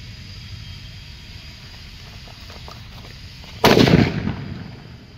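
A Cherry Bomb RDX firecracker bursts once with a loud, sharp bang partway through, its blast decaying over about a second after a stretch of quiet outdoor background.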